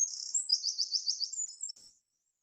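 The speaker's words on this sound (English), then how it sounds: "It's lots of very fast repeated elements joined up together at great speed." A wren sings a close, piercing high song of very fast repeated notes rattled together into a continuous trill, about two seconds long, alone and clear before falling silent.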